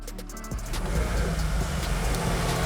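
A 2022 Volkswagen Golf R MK8 Estate cranks and fires up about half a second in, settling into a loud, steady, close idle rumble.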